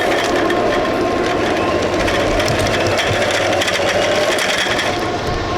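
A steady motorized whir and rumble drone on without a break, like a small powered cart's motor driving along, close and fairly loud.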